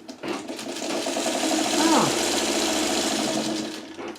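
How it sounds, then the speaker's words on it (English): A sewing machine runs at a steady, even speed, whirring and chattering close by as it stitches quilt seams, with a brief soft voice partway through. "I'm going to be a little bit cautious as I sew along, make sure those seams all nest up"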